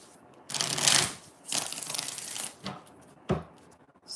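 A deck of tarot cards is shuffled by hand in several close, crisp riffling bursts with short pauses between them, ending with a quick snap.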